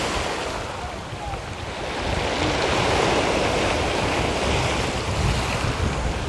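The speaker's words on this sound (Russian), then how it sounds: "пускай говорит море" Black Sea waves rolling onto a rocky shore at Anapa in rough weather, a loud continuous roar of surf with gusting wind buffeting the microphone throughout, no voices.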